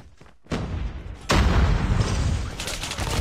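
A grenade bursts in a first-person shooter game, a loud broadband boom that jumps in and keeps rumbling as a sustained roar of gunfire and blast noise with no talk over it.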